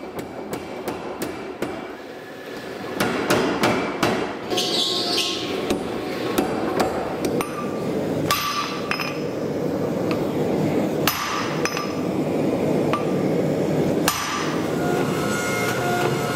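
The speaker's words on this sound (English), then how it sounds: "we're going to be very, very close to forging this to shape" Hammer blows ring out on 1086M round steel stock being forged into a knife shape, a long series of sharp metallic strikes in an irregular rhythm, close and loud, with no talking.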